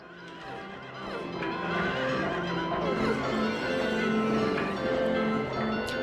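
Horses whinny and neigh inside the Silent Hill 3 video game, with several layered calls over a dense, continuous backdrop of tonal game sound that holds steady and loud throughout.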